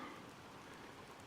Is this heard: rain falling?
yes